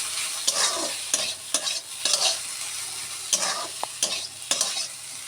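Potatoes fry in a pan while being stirred, steady sizzling broken by repeated scraping strokes of the spatula at an even rhythm, close and without speech.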